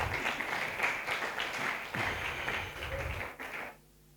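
A church congregation claps together in broad, sustained applause with a few voices mixed in, then cuts off abruptly near the end.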